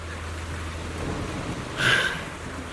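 Rain and rolling thunder in a video game scene, a steady wash of rainfall with a louder thunder swell near the end, no voices present.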